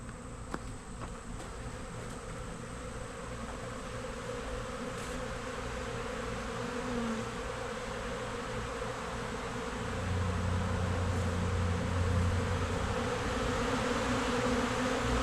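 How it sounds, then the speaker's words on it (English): A swarm of bees drones in a dense, continuous buzz filling the air close around, growing a little louder toward the end, with no talking. "the amount of bees that are in the air"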